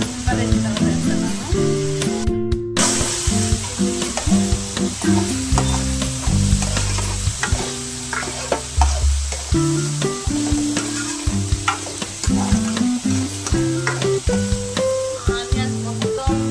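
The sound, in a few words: curry leaves sizzling as they are added to hot oil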